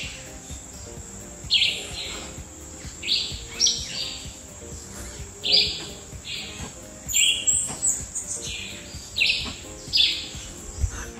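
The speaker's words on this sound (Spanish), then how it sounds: "Me voy a callar para que escuchen el sonido de los pajaritos." Small birds singing on rural land near Juayúa, El Salvador: repeated bright chirping phrases at moderate distance, fairly soft, over a steady high insect drone.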